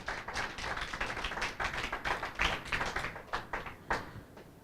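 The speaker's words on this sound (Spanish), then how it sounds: "Dele una ofrenda de palmas a Dios" A church congregation claps in offering to God, a brisk run of sharp, fairly even handclaps that swell and thin over a few seconds, moderately close with no voices on top.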